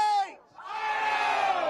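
Ohio State football fans at a morning tailgate let out a loud crowd cheer and yell, a short shout that rises after a brief dip and holds steady, close to the microphone.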